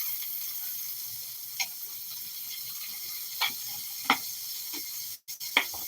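Tiny pancakes fry in homemade Amish butter, giving a faint steady sizzle broken by a few soft ticks and small pops of the pan and utensil.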